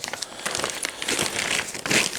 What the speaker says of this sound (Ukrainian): А, просто пакет.